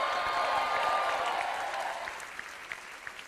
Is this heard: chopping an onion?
no